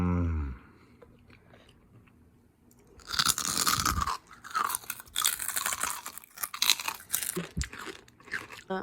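Close, loud bites into crispy roast pork with its skin, a quiet lead-in followed by bursts of sharp crackling crunches and chewing that come in irregular clusters for several seconds.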